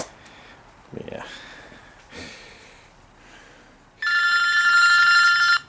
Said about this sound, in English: my phone's gonna ring right on top of this.